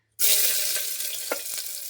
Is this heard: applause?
no